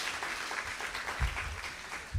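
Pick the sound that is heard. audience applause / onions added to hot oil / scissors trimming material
audience applause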